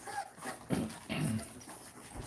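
Puppies let out a few soft, high whimpers and whines, close by, with brief pauses in between and no talking.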